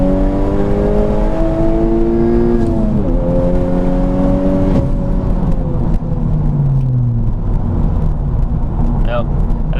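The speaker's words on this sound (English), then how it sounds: "Do a little second gear wide open throttle." Honda Civic Type R FK8 revving hard at wide open throttle in second gear, engine note climbing in steady harmonic sweeps that drop at each shift, loud and close from inside the cabin.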